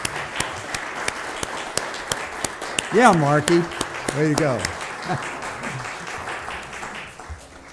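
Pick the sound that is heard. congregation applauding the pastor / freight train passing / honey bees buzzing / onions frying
congregation applauding the pastor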